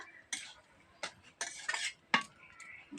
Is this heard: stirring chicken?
yes